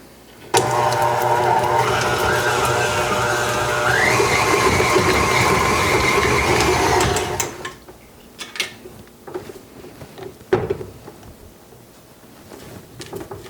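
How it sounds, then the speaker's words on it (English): A stand mixer whips cream cheese on a medium-high setting, a steady whirring motor hum that climbs in pitch partway through, then cuts off, followed by a few light clinks and clatters of the bowl and paddle. "We'll just mix this on a medium-high setting until the cream cheese is nice and soft and whipped."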